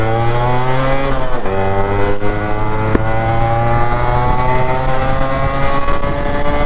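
A restored Yamaha RX-Z two-stroke motorcycle accelerates hard in gear, its loud, buzzing engine note rising steadily in pitch, dipping briefly at a gear change and then climbing again, close and continuous.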